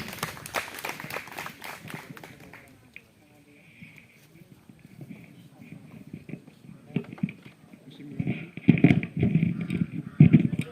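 An audience at a commemorative program for poet Ramdhari Singh Dinkar, held at the DIET in Pusa, claps to welcome a lecturer to the stage. The clapping fades after a few seconds, and then a voice speaks amid rustling and handling noises.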